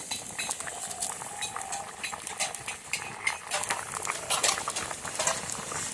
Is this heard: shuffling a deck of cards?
no